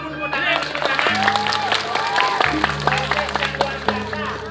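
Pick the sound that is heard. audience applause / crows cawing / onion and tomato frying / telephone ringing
audience applause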